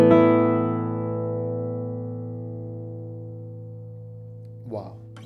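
A 2021 traditional guitar built by a luthier rings out a single full chord that decays slowly over several seconds. A brief voice cuts in near the end.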